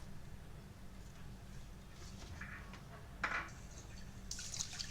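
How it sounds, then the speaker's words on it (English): Water runs into a pot holding washed millet and ginger slices, a soft, quiet trickle and splash over a steady low hum, with a few brighter splashes near the end. "Add 1000 milliliters of water."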